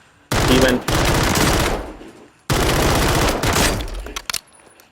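Rapid automatic gunfire from a RAM-9 close- to mid-range build in a video game, heard as two loud, sustained bursts separated by a short pause, close and with no voices over it.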